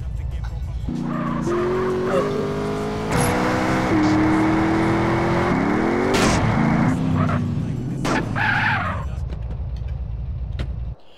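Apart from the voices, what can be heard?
car driving and skidding in a video game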